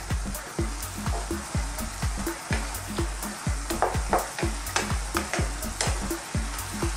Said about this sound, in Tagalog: Haluin ko na po siya.